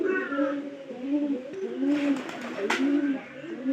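Pigeons coo in soft, repeated rolling calls close by, several overlapping phrases with a brief rustle in the middle.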